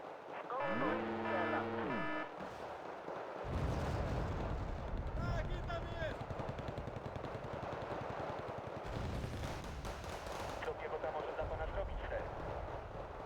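Artillery fire in a video game, with heavy booming blasts and a low rumbling barrage that rolls on continuously, loud and close, with an electronic tone sweep near the start.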